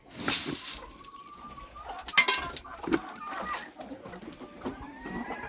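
Chickens cluck and chirp at a Ukrainian farm run, with a woman about to bring feed to the chicks; soft, scattered fowl calls repeat near the microphone over quiet yard sounds, with a few brief clatters.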